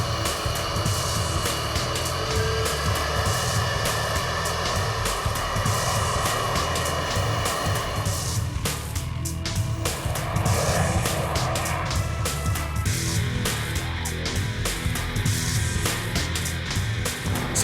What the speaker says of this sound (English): With all systems checked out, the